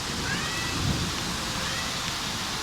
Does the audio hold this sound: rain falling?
yes